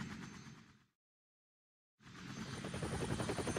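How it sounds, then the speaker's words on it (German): Helicopter of the STARS team in the video game Resident Evil HD Remaster: a steady, chopping rotor drone that fades out, drops to a second of silence, then returns and builds louder. "Stars Helikopter."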